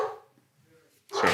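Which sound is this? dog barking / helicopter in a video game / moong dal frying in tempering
dog barking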